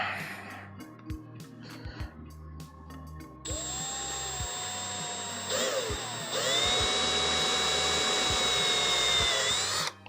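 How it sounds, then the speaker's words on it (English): Power drill boring into a piece of wood, with a high whine that starts after a quiet stretch, dips briefly, then runs steadily and loudly up close for several seconds. "I'm drilling into the wood and not into, if you're drilling, you don't want to drill into your desk"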